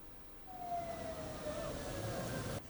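An ambulance siren sounds as the vehicle leaves the port of Libreville, a faint, distant tone wavering steadily across a low traffic hum.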